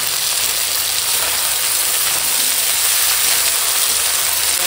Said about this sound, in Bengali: এখন দিয়ে দেবো এই যে বাঁধাকপি আর মটর।